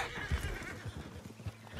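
Horse in Red Dead Redemption 2 gives a short whinny with a few soft hoof clops beneath it, fairly quiet and close, with no talk over it.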